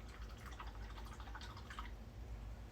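A paintbrush is rinsed and swished in a container of water after red paint, giving soft dripping and sloshing liquid sounds at close range, quiet and continuous with no talking.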